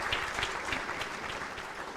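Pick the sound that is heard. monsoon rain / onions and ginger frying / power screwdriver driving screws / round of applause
round of applause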